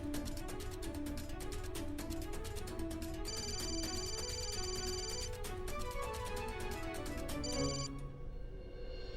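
A telephone rings repeatedly in a dramatic scene, a looping electronic ringtone pattern with higher chiming bursts over a steady musical background, fairly faint and without speech.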